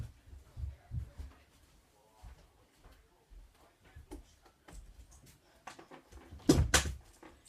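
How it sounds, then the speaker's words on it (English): An interior door is shut at home, giving a sharp, loud thump near the end, preceded by quieter handling and footstep-like knocks in a quiet room. "I'm going to go and close my door"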